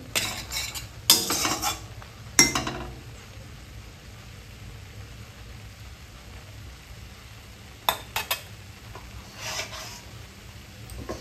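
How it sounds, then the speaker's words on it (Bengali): A spoon stirs and scrapes spice paste in a pan for a chicken chhat recipe, with sharp clattering bursts separated by quieter stretches of low cooking noise. "তার জন্য যে মশলা কষানো সেটা কি কমপ্লিট? আর একটু কষানো হবে।"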